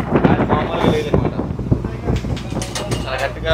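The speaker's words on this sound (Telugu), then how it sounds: "గాలి అయితే చాలా గట్టిగా ఉంది." Strong sea wind buffets the microphone aboard a small fishing boat, a continuous rumbling roar with a low engine-like drone underneath it.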